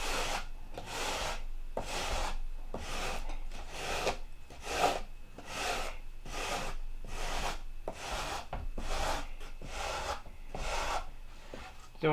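Wood being sanded by hand, heard up close as a steady back-and-forth rasp of about a dozen even strokes with brief pauses between them.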